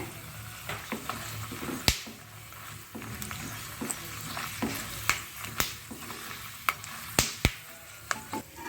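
A tempering of chana dal, urad dal, mustard seeds, peanuts and a dried red chili sizzles in hot oil, a steady close fry broken by frequent sharp pops and crackles.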